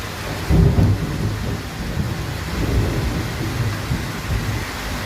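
A thunderstorm with heavy rain, low rumbling thunder rolling in and out over a continuous hiss of downpour, fairly close and loud.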